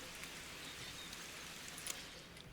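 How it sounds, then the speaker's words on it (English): Steady, quiet rain hiss in the racing video game Golden Lap, an even wash of fine patter with no talk. "Oh great, it's raining."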